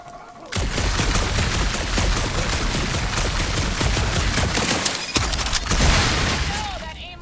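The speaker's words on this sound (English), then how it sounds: "that aimless shooting isn't gonna scare the monsters away" Dense, rapid gunfire in Marvel's Guardians of the Galaxy on PS5, shots pouring out in a dark monster-infested area. The loud, continuous barrage runs for about seven seconds with sharp bursts and booms mixed in, and no talking.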